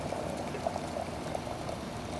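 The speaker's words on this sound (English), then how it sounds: "water heater, boiling water, and I will pour this water on top of our chicken." Boiling water from a water heater poured over a chicken, a soft steady gurgling pour with small splashes, close and quiet, no talking.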